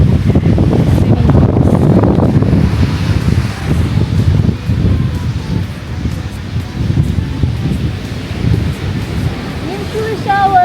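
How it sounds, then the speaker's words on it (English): Strong wind at a beach buffets the microphone with loud, continuous low roaring gusts, with surf and rustling mixed underneath throughout. "It was too windy and cold for us to get into the water"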